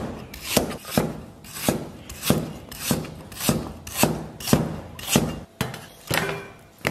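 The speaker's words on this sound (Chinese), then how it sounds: "把姜切成小片" A knife slices ginger into small pieces while preparing braised spicy pork bones, producing a steady rhythm of about a dozen close, crisp cuts with scraping board knocks between them, and no speech.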